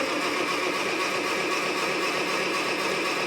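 An International tractor engine cranks and tries to start, a steady loud mechanical churn that runs unbroken without catching, with a brief spoken exclamation over it.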